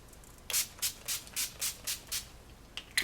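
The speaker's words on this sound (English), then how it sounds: "set my face with my NYX Matte Finish setting spray" Quick bursts of NYX Matte Finish setting spray hissing onto a face in a steady series of about eight short pumps, close and fairly soft, with no talking.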